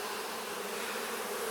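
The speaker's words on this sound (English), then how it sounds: "Take a look at this bee." A honeybee buzzes steadily and close by near a beekeeper's leather glove, a continuous droning hum with no voices over it.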